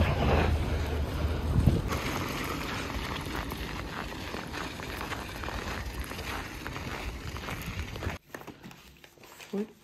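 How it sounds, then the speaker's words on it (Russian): Strong wind gusting outdoors and buffeting the microphone, a loud continuous rumbling roar that drops off abruptly near the end as the setting goes quieter, with faint speech. "Видно, нет, как ветер сильный."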